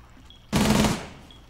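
A short, loud burst of rapid automatic gunfire in the Rainbow Six Siege shooter game, lasting about half a second and fading into quiet background.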